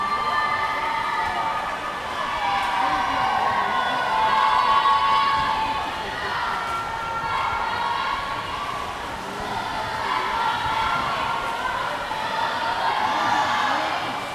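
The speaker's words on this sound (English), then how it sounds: "There's a lot of cheering going on. Even the parents are standing up over here cheering on their kids." Teammates and parents cheering at a high school swim meet at an indoor pool, a loud continuous crowd roar of shouts and whistles swelling and fading over about fourteen seconds.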